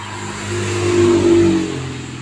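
A car engine revs up, holds a strained high note for about a second, then falls back to a steady idle, close and moderately loud, with no voices.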